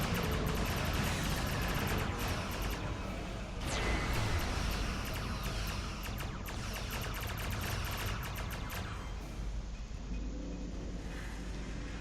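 Energy weapons fire in a dense, continuous barrage of plasma torpedoes during Star Trek Online space combat, with rapid crackling bursts and rumbling blasts layered throughout, loud and sustained without any talk.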